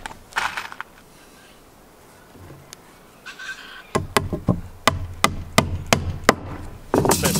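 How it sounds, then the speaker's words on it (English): A hammer drives a nail into a new replacement deck board: a run of sharp, evenly spaced blows, loud and close, after a few softer taps and handling sounds, with no talking. "We'll then put a second one just to the side just to hold it. And we'll nail that in place as well."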